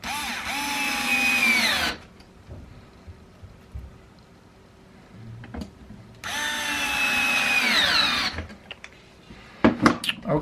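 A power drill drives screws into an IKEA Kallax drawer in two loud, close bursts of whining motor, each lasting about two seconds, separated by quiet handling noises and followed by clicks.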